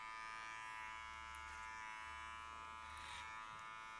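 Electric hair clippers buzz steadily and close up while a barber works a skin fade, the motor hum running continuously with slight changes in pitch as the blade moves across the head.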